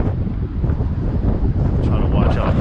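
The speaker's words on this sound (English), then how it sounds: "It's getting windy." Strong storm wind buffets the microphone in a steady, loud rumble outdoors in Oakland, with brief speech audible.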